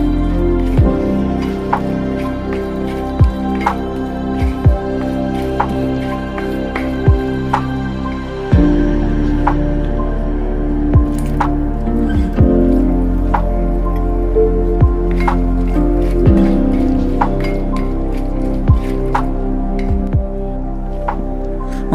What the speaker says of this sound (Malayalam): ഇതിലേക്ക് നമുക്ക് ആവശ്യത്തിനുള്ള പുളിവെള്ളം കൂടെ ചേർത്ത് കൊടുത്ത് എണ്ണയൊക്കെ തെളിഞ്ഞു വരുത്തണം വരെ നല്ലപോലെ ഒന്ന് വഴറ്റിയെടുക്കണം